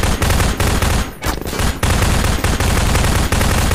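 Dense automatic gunfire from Half-Life 2 rattles on almost without pause, with one brief lull before the barrage resumes, loud and close.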